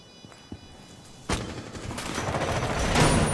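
Video game gunfire starts with a couple of soft isolated shots, then a sharp louder blast and a sustained rattling volley that builds in intensity toward the end, with no voices.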